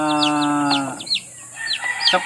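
Six newly hatched chicks give several high, thin chirps and peeps, repeated quickly over a low steady clucking hum, close by with no talking.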